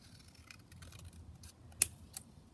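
Scissors cutting paper in a papercraft workshop: faint, quiet snips and rustles with two sharper clicks of the blades near the end.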